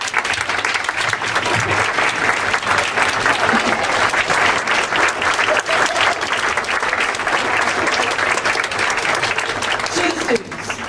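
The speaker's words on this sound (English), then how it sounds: "give yourselves a standing ovation for the extraordinary work" An audience at a demo day event stands and applauds in a standing ovation, a loud, steady wall of clapping from many hands that continues for many seconds before easing at the end.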